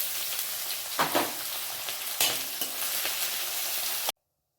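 Onions with spices and capsicum sautéing in a pan for chilli kothu chapathi produce a soft continuous sizzle with a few sharper stirring scrapes, fairly quiet, cutting off abruptly at the end.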